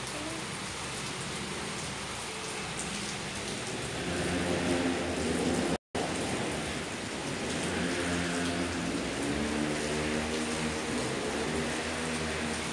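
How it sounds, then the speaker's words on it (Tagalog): Steady rain pours down, a constant broadband hiss with patter on surfaces; faint voices murmur underneath, and a brief dropout interrupts it midway. "Umuulan daw."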